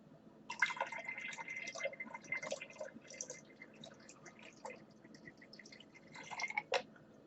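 Two solutions are poured together in a cup during silver nitrite synthesis, giving faint, close trickling and dripping liquid sounds with soft splashes throughout.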